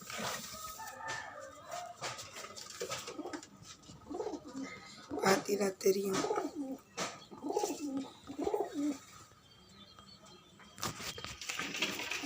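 Pigeons coo softly in a rooftop loft in a few low, rounded bursts, fairly close but faint, with someone briefly speaking and some rustling in the background.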